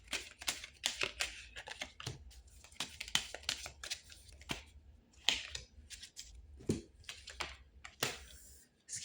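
Tarot cards are shuffled by hand, giving quiet, rapid riffling and flicking bursts in irregular clusters, close and soft, with no talk.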